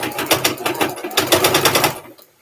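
A sewing machine punches through bulky layers of fabric scraps in a loud, rapid chattering burst of stitches that pauses briefly midway, then resumes before stopping abruptly.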